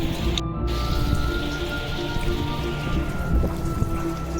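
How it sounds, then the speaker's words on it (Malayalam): Steady, dense rainfall pattering on surfaces outside with wind, continuous and fairly loud with a constant hiss, in Vagamon, Kerala. "നല്ല കാറ്റും മഴയുണ്ട പുറത്ത്."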